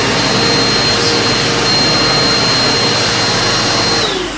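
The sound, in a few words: Eureka Powerspeed upright vacuum cleaner running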